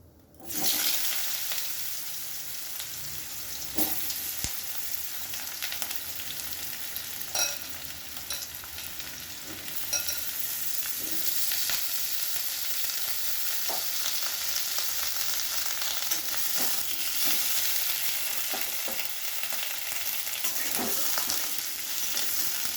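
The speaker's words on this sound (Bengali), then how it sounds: "আলু পেঁপেটাকে আমি একটু ভালো করে ভেজে নেব" Papaya and potato pieces frying in hot oil with cumin give a loud, continuous close sizzle with occasional stirring clatter throughout. No voices are heard.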